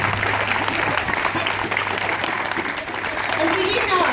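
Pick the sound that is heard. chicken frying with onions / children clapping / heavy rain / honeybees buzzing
children clapping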